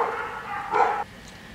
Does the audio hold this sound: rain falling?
no